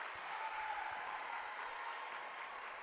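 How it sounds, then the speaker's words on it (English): East Ridge basketball fans in a gym cheer their defense on, a steady, even roar of crowd noise and clapping that holds at a constant level throughout. "cheering their defense on"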